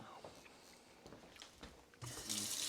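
Tap water runs at a kitchen sink to rinse sticky residue off hands, quiet clinks and movement first, then the flow swells into a steady hiss over the final second.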